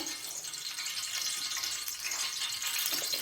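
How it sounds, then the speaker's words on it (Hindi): Onions frying in oil in a pot for Bannu-style beef pulao, a steady close hiss of sizzling with no pauses and no voices. "अब मैं डालूंगी इसमें प्याज,"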